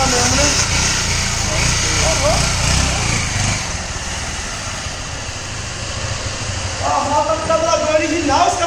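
A Honda Titan 150 motorcycle, bored out to 190cc, runs its engine close by with a steady buzzing drone while people talk over it.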